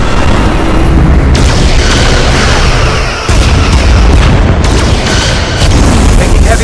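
Starship weapons fire and explosions in Star Trek: Resurgence, a loud, continuous barrage of booming blasts and impacts with brief dips between volleys.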